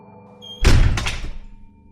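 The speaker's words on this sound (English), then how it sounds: "The doors slammed shut" Heavy hotel doors slam shut with a loud, deep thud and a rattling rumble that decays over about half a second, in a tense audio story; no voices.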